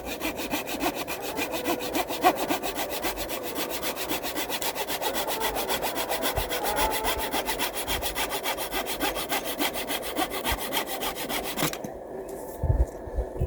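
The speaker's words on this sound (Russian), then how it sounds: "вот можно и вот так вот ей пилить" A thin, flexible hand saw cuts wood in fast, regular back-and-forth rasping strokes, close and steady. Near the end the sawing stops, leaving a few faint knocks.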